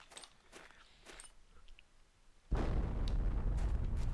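A loud explosion in the video game The Planet Crafter bursts in abruptly after quiet footsteps and a few light in-game sounds, then rumbles on as sustained broadband debris noise until the end.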